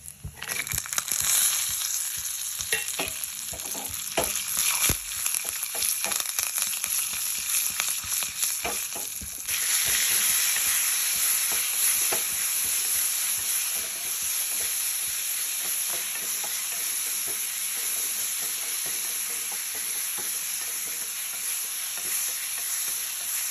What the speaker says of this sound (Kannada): ಹೀಗೆ ಸಾಸಿವೆ ಒಣಮೆಣಸಿನ್ಕಾಯಿ ಹಾಕ್ತಾ ಇದ್ದೀನಿ ಈಗ ಗೋಡಂಬಿ ಕರಿಬೇವು ಹಾಕ್ತಾ ಇದ್ದೀನಿ